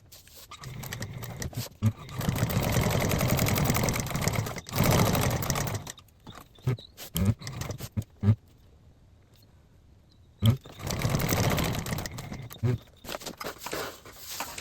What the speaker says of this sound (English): there we have our credit card pocket stitched on all 3 sides